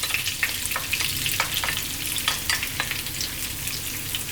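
Chopped onion fries in a pan for fish curry, a steady close sizzle with small crackling pops scattered through it and no talking.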